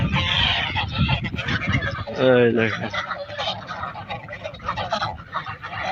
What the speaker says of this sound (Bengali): দেখেন এই পাশটা অনেকগুলো হাঁস আর কি